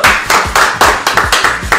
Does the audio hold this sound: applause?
yes